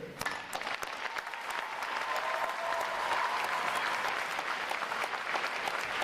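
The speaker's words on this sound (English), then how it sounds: "please join me in a round of applause for all our families and friends that are here" An audience at a U.S. Navy boot camp graduation in a drill hall claps for families and friends, applause swelling from a few early claps into a sustained, dense roar from a large crowd.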